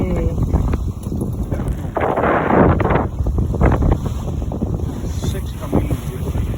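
Strong, steady wind roars across the microphone aboard a sailboat under two sails, loud and constant with gusting surges, and faint voices beneath it.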